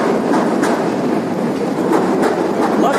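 A Chicago L elevated train rumbles past close by in a steady, loud roar with rhythmic clickety-clack of wheels on rails, no voices over it.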